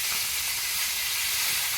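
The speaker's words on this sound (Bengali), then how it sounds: "এবারে এই রুই মাছগুলো ভেজে নেবো" Pieces of rohu fish frying in a wok give off a loud, constant hiss of hot oil, unbroken and near, with no talking.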